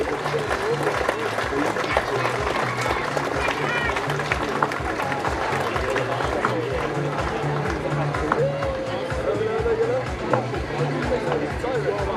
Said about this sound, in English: let's give him a round of applause, please